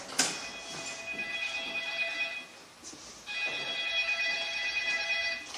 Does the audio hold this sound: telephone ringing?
yes